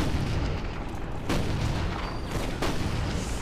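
A howitzer in the video game Toy Soldiers fires amid a dense battle din, two sharp booms standing out over a constant roar of distant explosions and gunfire.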